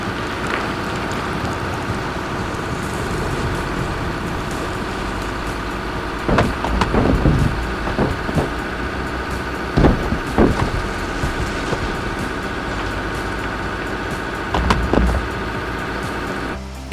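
An excavator's engine drones steadily as the machine crawls forward over car-sized boulders, with intermittent clanks and knocks rising above the rumble.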